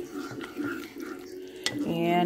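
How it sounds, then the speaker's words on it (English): A spurtle stirs thick beef gravy around tender roast beef in a slow cooker, giving soft scraping and sloshing strokes, close and fairly quiet, with a brief clink near the end. "I'm going to take my spurtle and I'm going to mix this up a little bit"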